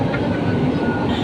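A Manila MRT train rumbles and rattles steadily from inside a carriage during the ride, loud and continuous, with no voices.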